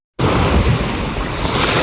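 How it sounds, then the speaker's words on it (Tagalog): Strong ocean waves at sea, heard from a small fishing boat out on open water, a loud continuous rushing roar of surf and water mixed with heavy wind buffeting the microphone, with no one talking. "Grabing lakas na po ng alon."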